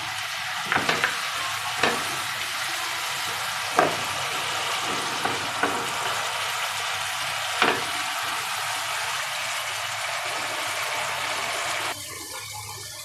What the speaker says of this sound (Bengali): মশলা কষানো প্রায় হয়ে গেছে